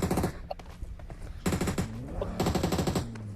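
Rapid automatic gunfire in the mobile battle royale game PUBG Mobile, heard as loud bursts of repeated shots separated by brief gaps, with faint game sounds between the volleys.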